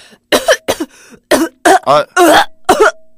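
A person coughs repeatedly in harsh, wet bursts close to the mic, with short gasps and throat-clearing between fits.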